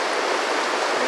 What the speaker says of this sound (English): Where I'm heading right now is for the rapids section, the coffee pot rapids.